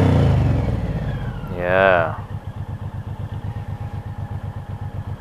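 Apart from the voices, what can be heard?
Suzuki Intruder motorcycle engine revving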